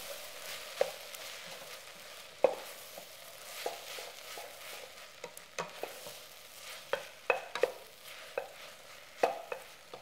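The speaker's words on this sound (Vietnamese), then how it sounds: "Dầu nóng rồi thì cho hành tây và hành ba rô vào xào." Onions and shallots sizzle in hot oil in a pot while a utensil scrapes and knocks against the pot at irregular intervals, close and fairly quiet.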